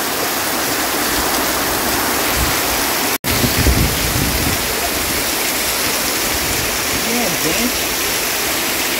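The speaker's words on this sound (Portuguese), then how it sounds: "E olha, pessoal, a chuva." Heavy rain pours down in a loud, constant hiss close by, with a brief cut and a faint voice partway through.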